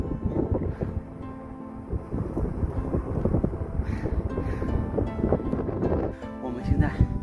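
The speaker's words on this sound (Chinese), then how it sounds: "这里风很大" Strong wind buffets the microphone on a mountain summit, a heavy rumbling roar that gusts unevenly throughout, with people talking underneath.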